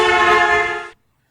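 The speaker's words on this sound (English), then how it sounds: "As it does so, it honks its horn," A car horn gives one sustained, loud honk as the car passes in the road, its tone shifting in pitch with the Doppler effect before it cuts off sharply.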